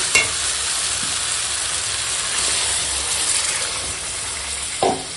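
Water poured into braised mutton sizzling in hot oil in a pan, a steady loud hiss of frying with stirring throughout and a brief sharper burst near the end, no voices.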